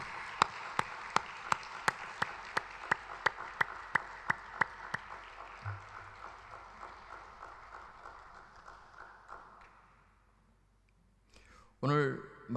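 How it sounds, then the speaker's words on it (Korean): At a worship service at Osanri Prayer Mountain, an audience claps in a steady, even rhythm to welcome a guest pastor. The faint clapping fades to near silence after a few seconds, then a voice begins speaking. "다시 한번 큰 박수로 환영했습니다."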